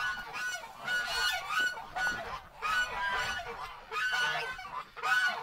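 Farm ducks and geese quack and honk in a steady, overlapping chorus close by, repeated bursts with no talking.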